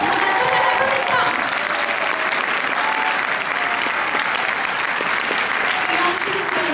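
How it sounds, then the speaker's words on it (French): A packed cinema audience at the Paris premiere of The Bouncer (Lukas) applauds director Julien Leclerc with loud, dense, sustained clapping mixed with a faint crowd murmur that holds steady throughout. "Je vais vous demander d'applaudir bien fort le réalisateur Julien Leclerc"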